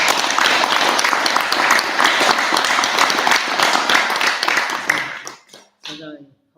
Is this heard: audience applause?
yes